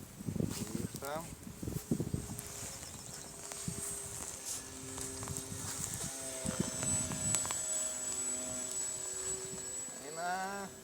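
A homemade model airplane flies outdoors in wind, its small engine giving a droning, wavering whine that rises and falls under people talking nearby.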